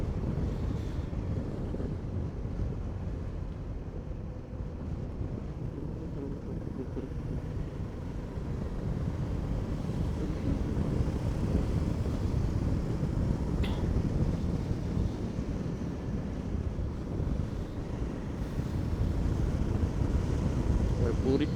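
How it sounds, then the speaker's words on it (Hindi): Wind buffets the microphone during a motorcycle ride on a Himalayan 450, giving a continuous low roar and rumble that swells slightly in the second half, with no clear voices. "हवा चल रहा है, थोड़ा थोड़ा ठंडा भी लग रहा है"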